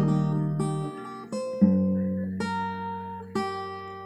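Single acoustic guitar notes plucked on the first string in a slow sequence of about six notes, each ringing out and fading before the next, close and clear without any speech.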